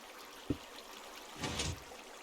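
Water poured from a bucket in Minecraft starts with a soft click, followed by a short, fairly quiet splash and rush of flowing water that fades out quickly.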